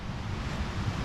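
Steady broadband rushing of a creek or river flowing beside a mountain trail near a blue lake in North Cascades National Park, continuous and fairly loud with no voices.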